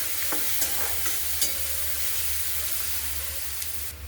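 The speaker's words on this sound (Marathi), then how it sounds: "त्याला 1 मिनिटभर परतून घेऊ" Green chili paste sautés with golden fried onions, a soft steady sizzle with occasional light stirring clicks and scrapes, moderately quiet and without speech.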